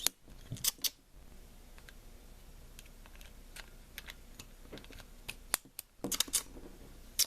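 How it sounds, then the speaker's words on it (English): A plastic piece of a Jurassic Park Dino Tracker toy rocket launcher clicks as it loads, giving sharp close clicks and snaps at the start and end with faint handling ticks between. "It's load in pretty easily. You'll hear it click."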